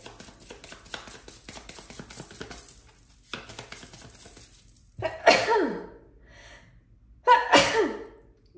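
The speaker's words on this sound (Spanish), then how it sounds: "El incienso me da para estornudar." Two sharp, loud sneezes set off by incense burst out a couple of seconds apart, following a stretch of faint clattering and rustling in the room.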